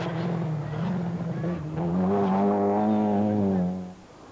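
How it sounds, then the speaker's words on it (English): A Group A Opel Kadett rally car with valve trouble on the 1988 Donegal International Rally gives a flat, strained engine note that rises in pitch as it passes close, then fades quickly. "That flat-sounding Group A cadet is about to retire with valve trouble."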